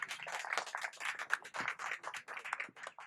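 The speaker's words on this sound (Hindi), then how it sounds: "जोरदार तालियां साथियों" Association members clap at a CPWD SC/ST Association new year event honouring Babasaheb Ambedkar, a brief burst of scattered, uneven hand claps from a modest crowd in a hall.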